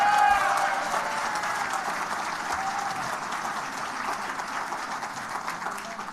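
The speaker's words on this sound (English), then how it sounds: "please give a round of applause to my wife and my kids" An audience at the 2023 Hofstra University Athletics Hall of Fame induction ceremony applauds an inductee's wife and kids, with a steady, moderately distant wash of clapping that starts strong and settles into a lighter, sustained level.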